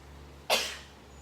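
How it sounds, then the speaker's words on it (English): A single sharp sneeze bursts out close by against a quiet background, brief and loud, then trails off quickly. "I prepare to sneeze."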